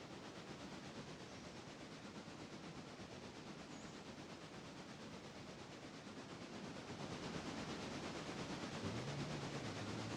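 A modded steam locomotive in a train video game makes a continuous rolling rumble and hiss that swell slightly toward the end, with a faint low tone near the close.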